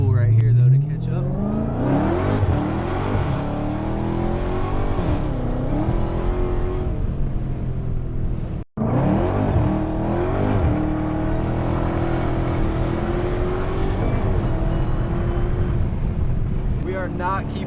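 Dodge Hellcat accelerating hard on a street run alongside ZL1s, engine climbing through the revs with rising pitch sweeps and a brief dip at a gear change before pulling again, mixed with wind buffeting on the microphone.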